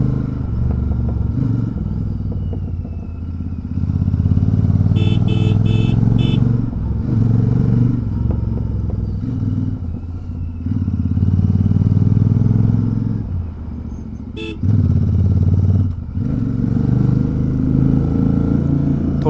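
A motorcycle rumbles along a winding mountain road in Uttarakhand, its engine droning loudly and steadily, easing off briefly and pulling again as the rider shifts through gears.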